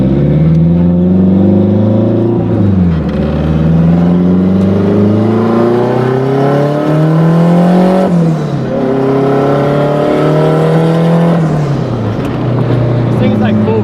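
A turbocharged Honda Civic EG race car engine, about 700 hp, revs hard in repeated rising and falling pulls, loud and close, with a brief dip and surge between throttle blips.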